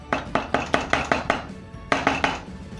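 Plantain and oat porridge being mixed in a pot, with a spoon striking and scraping in a steady series of about six even strokes, a short pause, then three more, close and clear with no talking.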